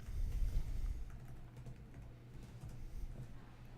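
Quiet, close keystrokes on a computer keyboard as code for a sum function is typed, a soft irregular patter of keys over a low background rumble with no talking.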